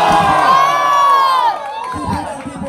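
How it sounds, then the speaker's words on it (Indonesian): A crowd of spectators at a village volleyball tournament cheers and shouts loudly, with children's voices whooping in a sustained roar that dips slightly halfway through before swelling again. "Sorak-sorai penonton boleh"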